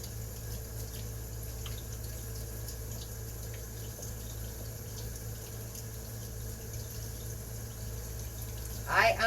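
A kitchen tap runs at a sink while food is washed during home chili canning. The flow is a steady, continuous hiss, with a brief clatter of dishes right at the end.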